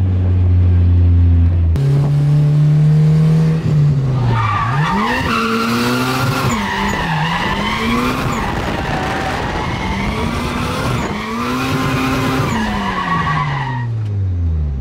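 A Nissan Silvia S14 drifts in second gear, engine droning loud and close while its tires skid and squeal through the turn, the engine note rising and falling with throttle changes and no talking.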